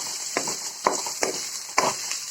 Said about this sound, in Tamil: இப்போ மூணு ஸ்பூன் எண்ணெய் ஊற்றி இந்த பூண்டை போட்டு பொறிச்சு